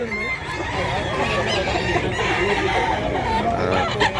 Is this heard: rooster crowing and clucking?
yes